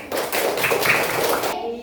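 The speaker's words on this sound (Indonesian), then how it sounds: "tepuk tangan dulu untuk kelompok 1" Dense, steady patter of hands clapping together, a classroom group applauding for nearly two seconds before it stops abruptly.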